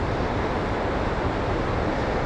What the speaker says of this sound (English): I just wanted to stop just to show you this river, how fast that's coming down there